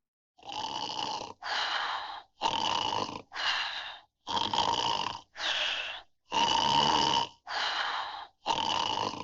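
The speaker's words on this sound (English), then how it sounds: "Some cartoon snoring." Exaggerated cartoon snoring from the Warner Brothers sound effects library, nine loud rhythmic breaths alternating between wheezy inhales and rasping exhales, steady and close with no talking.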